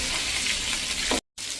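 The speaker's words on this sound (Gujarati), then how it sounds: "થોડીક વાર વઘાર કર્યો છે ને વઘાર બેસી જાય ને ત્યાં સુધી આપણે એને આ રીતે વઘારમાં મિક્સ કરતા જઈશું" Bottle gourd and fenugreek muthiya fry in a tempering over a medium flame while being stirred. A close, dense sizzle holds steady, then cuts out for a moment and resumes.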